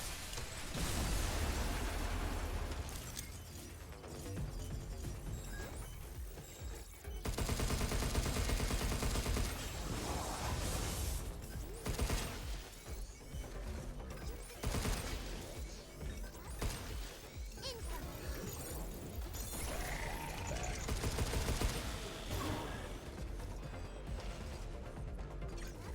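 Dense video game combat with rapid gunfire, machine-gun bursts, crashes and mechanical clatter, loud and nearly continuous, with brief lulls between intense stretches.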